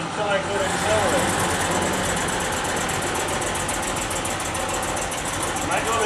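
A car engine runs steadily while the driver shifts into gear and then accelerates, a continuous broadband drone at fairly even loudness, with a person talking over it.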